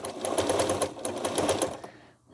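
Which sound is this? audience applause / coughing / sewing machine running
sewing machine running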